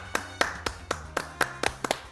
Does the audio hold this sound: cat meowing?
no